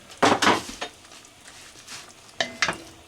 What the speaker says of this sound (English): we are going to allow this to cook as I stir it, because we don't want nothing sticking to the bottom